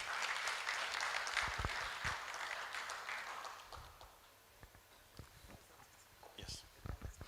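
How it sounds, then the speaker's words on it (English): Audience applause at a law week town hall meeting, dense clapping that fades out midway, leaving scattered claps, footsteps and soft room noise. "a round of applause for her"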